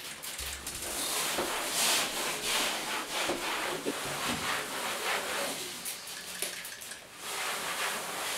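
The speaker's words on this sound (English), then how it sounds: "the next step is going to be sanding the walls" Walls being sanded by hand ahead of primer and paint, a steady rasping scrape of abrasive on a painted surface that continues close and fairly loud throughout with no talking.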